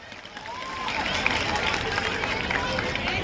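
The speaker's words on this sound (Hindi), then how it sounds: "एक बार जोरदार तालियों से आप श्रीपाल जी का स्वागत करें, अभिनंदन करें" Audience applause at a school's annual cultural programme, a crowd clapping that swells after a quiet start and then holds steady, with a faint voice underneath.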